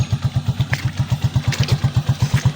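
A motorcycle rides toward a farm along a flooded route, its engine thudding in a steady, rapid low pulse close by with a bit of clatter, no voices.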